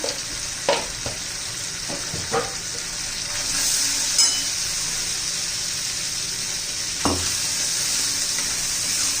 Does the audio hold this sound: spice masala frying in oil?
yes